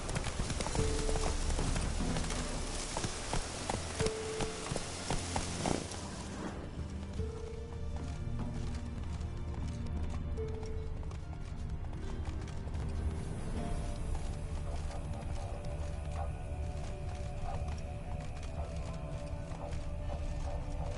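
Roach the horse galloping in The Witcher 3, a loud fast run of hoofbeats that fills the first six seconds and then drops to a softer steady clip-clop under game sounds.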